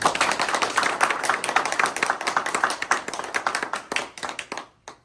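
Audience clapping in the New York State Assembly hall at an International Mt. Everest Day program, dense close handclaps that thin out and stop near the end.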